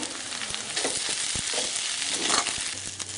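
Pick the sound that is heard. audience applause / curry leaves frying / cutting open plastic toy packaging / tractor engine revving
curry leaves frying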